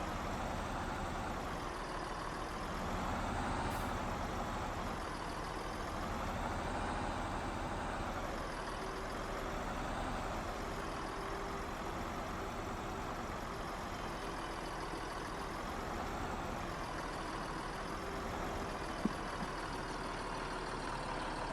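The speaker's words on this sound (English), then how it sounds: "look at the flex on that tractor going across all this rough" A tractor in a farming video game drives over rough ground with a steady, rumbling engine drone that rises and falls gently and runs without a break for about twenty seconds.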